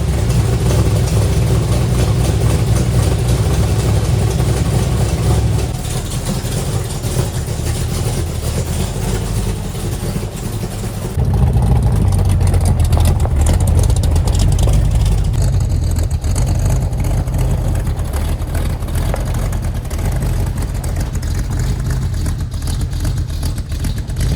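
An old truck's engine rumbles loudly and steadily as it drives, a deep low drone that dips briefly partway through and then returns slightly rougher and louder.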